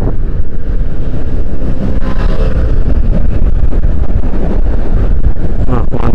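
A Davigo Dragon lithium electric motorbike pulling away hard in its second riding mode, a steady loud rush dominated by wind buffeting the microphone, with a rising motor whine faintly showing near the end.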